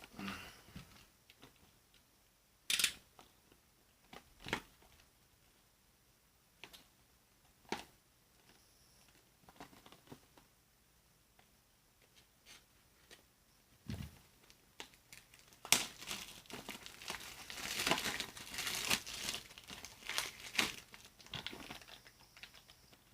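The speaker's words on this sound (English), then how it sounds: "Okay, so let's unwrap it." Plastic shrink wrap is peeled and torn off a new Call of Duty: Black Ops 4 game case for Xbox One, with scattered crinkles at first building to a dense, loud stretch of crackling near the end.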